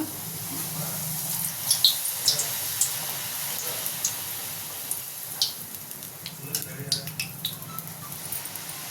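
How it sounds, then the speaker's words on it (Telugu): Puri dough frying in hot oil, a steady close hiss of sizzling with scattered crackling pops, and a voice talking faintly at times. "ఇప్పుడు నూనెలో ఫ్రై చేద్దాం హీట్ అయింది ఇప్పుడు వేసుకుందాం"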